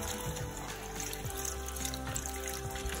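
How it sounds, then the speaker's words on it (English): Chicken broth pours into a Dutch oven in a steady, close trickling splash lasting a few seconds, soft against faint background hum and without talk. "So I'm going to go on and pour my broth into my Dutch oven"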